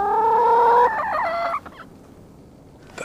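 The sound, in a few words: chicken clucking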